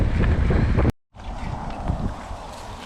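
Strong wind buffets the microphone while riding, a loud rushing roar, cutting out briefly before the gusty rumble returns.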